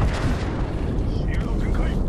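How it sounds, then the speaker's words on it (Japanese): Airstrike explosions rumble in a combat video game, a continuous loud booming roar with heavy low-end and scattered gunfire-like cracks, layered under in-game voice callouts. "空爆を要請する。"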